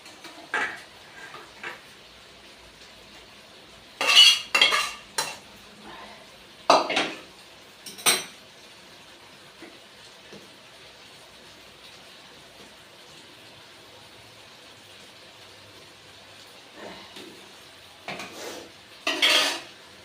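Egg and cauliflower curry with potato is ladled from a pan into a bowl, with several clear scraping, clinking bursts of a metal spoon against the cookware, separated by quiet gaps.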